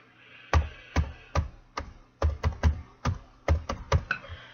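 Typing on a computer keyboard while entering text into a notepad document for a Minecraft server setup: about a dozen close, crisp keystrokes in irregular bursts, alone without speech.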